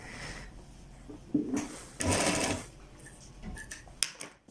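A sewing machine stitching a kurta runs in bursts of steady mechanical whirring, with short pauses and a few clicks between runs, close and fairly loud.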